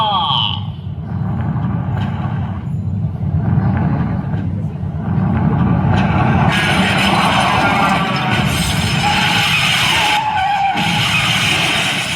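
A vehicle skidding as a sound effect in a church boys' group drama, a long rough tire screech and engine rumble that swells louder halfway through, with voices speaking over it.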